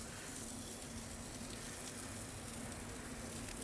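Filet mignon steak searing on a Solaire grill, a steady, quiet broadband sizzle holding evenly throughout with a faint low hum beneath and no talking.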